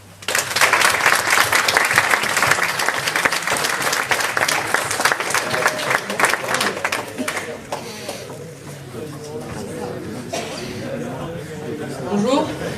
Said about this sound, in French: Donc je demande de les applaudir.